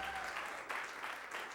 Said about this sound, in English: One more round of applause for Daniel.